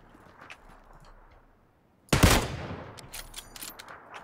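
Gunfire in the game PlayerUnknown's Battlegrounds: after quiet background and a brief silence, one loud sharp shot rings out, followed by a decaying echo and scattered fainter clicks.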